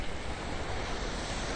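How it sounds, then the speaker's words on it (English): Ocean surf on the shore at Maui, Hawaii, makes a continuous broad rushing wash, close and steady, mixed with wind noise. "immerse yourself into the sounds of the ocean's ebb and flow"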